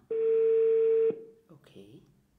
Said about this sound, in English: It's ringing. The landline is ringing now.